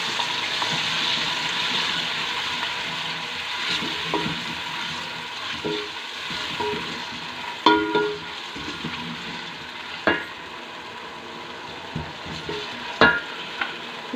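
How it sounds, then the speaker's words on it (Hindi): Onion paste fries in hot oil with a steady, close sizzle, and occasional stirring scrapes and clinks sound over it. "हमारा ऑयल गर्म हो गया है। इसके अंदर हमने प्याज का जो पेस्ट बनाया हुआ इसको डालेंगे और अच्छे से फ्राई कर लेंगे।"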